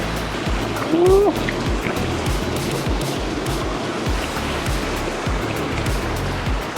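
Water rushes steadily at a creek crossing along the Thompson Creek trail in Alberta, with a constant broadband wash near the recorder and no talk.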